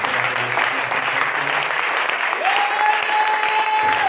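A church congregation claps together at a French-language service, a steady broad wash of applause throughout, joined midway by a sustained organ or keyboard tone.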